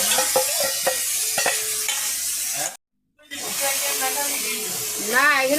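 Chili paste and cumin paste frying in a pan, a loud close sizzle and hiss with stirring, cut by a brief silent gap midway, while a person talks over it.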